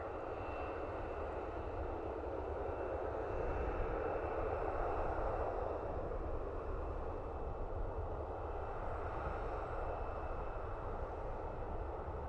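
A Ryanair airliner at Dublin Airport produces a continuous broadband jet roar, heard from a distance, swelling slightly and then holding steady for the whole stretch, with no one speaking.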